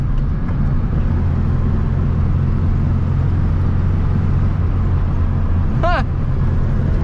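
A Volkswagen Beetle with a carburetted engine cruises in fourth gear, its steady low engine drone and road rumble continuing loud and unbroken, with a short brighter squeak or chirp near the end.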